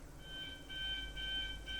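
An alarm added in editing sounds as a faint, repeating electronic tone, pulsing in roughly half-second bursts over a quiet background.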